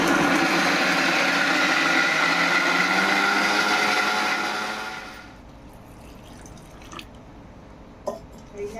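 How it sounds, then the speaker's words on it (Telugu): A mixer grinder blends small coconut pieces for coconut milk, a loud, steady, close whirring churn for about five seconds that then cuts off, leaving quiet handling clatter and a few faint knocks. "కొబ్బరి మిక్సీ బట్టి కొబ్బరి పాలు తీసుకోవాలి."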